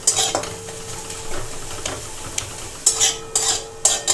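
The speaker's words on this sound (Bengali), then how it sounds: "এবার খুব ভালো করে নেড়ে চেড়ে কষিয়ে নেব। এ এরকম খুন্তির মাথা দিয়ে চেপে চেপে ভালো করে স্ম্যাশ করে দিতে হবে।" Taro leaves being stirred and pressed with a metal spatula in a sizzling pan, irregular scraping strokes with several sharp clanks of the spatula against the pan over a low, steady frying hiss.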